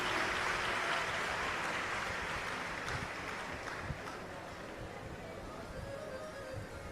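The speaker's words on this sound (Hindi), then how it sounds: "यजमान परिवार के लिए एक बार जोरदार ताली बजाकर स्वागत वंदन अभिनंदन।" Audience at an outdoor Shiv Puran religious discourse during rain clapping loudly to welcome the host family, a dense wash of applause that gradually thins and fades over several seconds.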